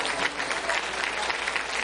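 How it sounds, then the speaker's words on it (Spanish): A church congregation applauds people standing at the altar, a dense, steady wash of many hands clapping close by for a couple of seconds without a break. "Denle un aplauso grande a esta gente que está aquí en el altar"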